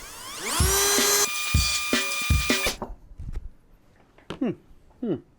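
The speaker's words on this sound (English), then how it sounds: "1970s Craftsman drill bit" A 1970s Craftsman drill bit bores into a workpiece with a loud, steady electric drill whine for about two seconds, then several short bursts follow before brief voices talk.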